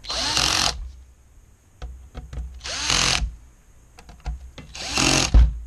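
A power drill or driver tightening screws while an LED backlight is installed in an ET1247L-8CWA-1-G display, sounding in three short whirring bursts separated by quiet gaps with small clicks and handling taps, close and fairly loud.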